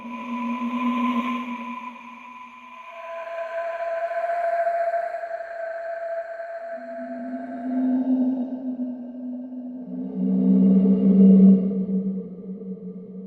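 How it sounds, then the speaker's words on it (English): A wind whistle from the Quetzal sample library, an Aztec-style Ehecatl whistle, sounds a breathy, airy tone that glides and wavers in pitch over several sustained blows, moderately loud and heard alone with no talking. "The wind whistle."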